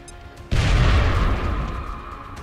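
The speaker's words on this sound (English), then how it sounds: "Throwing grenade." A grenade goes off in the video game XCOM Enemy Unknown, a single sudden loud boom that rumbles and slowly fades over the next two seconds.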